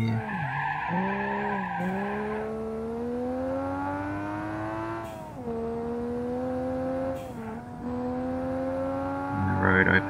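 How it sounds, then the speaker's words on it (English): Tires screeching in long sustained squeals as a car drifts under braking through a wide-radius curve in BeamNG.Drive, rising and falling in pitch over a steady engine drone, loud and close. "Slight braking drift through these apex there."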